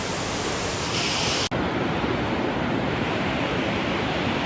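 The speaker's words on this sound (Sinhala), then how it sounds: "මේක තමයි ළමයි අපිට හම්බ වෙච්ච පළවෙනිම දියැල්ල" A steady roar of rushing water from the Uran Watunu Ella waterfall at Lankagama, Sri Lanka, heard nearby, a continuous broad hiss with no other sounds.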